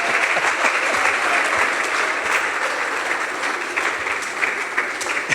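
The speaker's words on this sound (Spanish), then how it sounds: "dele palmas al Señor" A church congregation applauds steadily and loudly for several seconds, a dense, sustained clapping with no voices audible over it.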